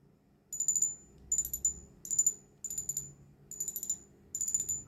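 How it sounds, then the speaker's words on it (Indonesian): Six bursts of rapid clicking come from a budget spinning fishing reel's clicker as the spool turns, evenly spaced and fairly close, with faint background noise between. "Keren ini suara klikernya."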